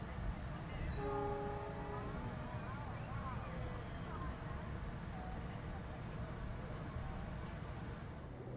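A passenger train on the Pangandaran line pulls into Manonjaya station, a low rumbling hum with squealing brake tones rising and gliding briefly, heard from inside the carriage and steady to the end.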